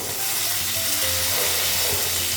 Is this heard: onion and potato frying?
yes